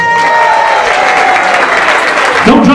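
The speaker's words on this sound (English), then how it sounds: "give her a big round of applause." A theatre audience at a student showcase at the Lowry Theatre claps loudly for a performer coming to the stage, dense sustained applause with a faint tone running underneath and a brief swell near the end.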